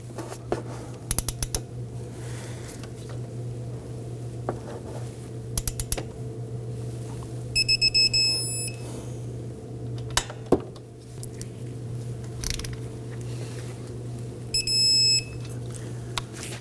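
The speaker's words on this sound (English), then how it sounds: "Now we're going to torque down the caliper bracket bolts, the large bolts, to 79 foot-pounds." Torque wrench tightening the large front brake caliper bracket bolts to 79 foot-pounds on a 2018-2024 Toyota Camry, over a steady low hum. A few sharp metallic clicks and two short bursts of electronic beeping stand out.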